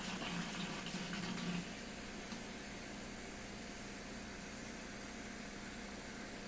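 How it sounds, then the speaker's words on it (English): Warm water runs into a hydration pack reservoir with a steady, continuous rushing fill, loudest in the first second and a half and then settling into an even, close pour with no talking. "I'm going to put warm water in this again"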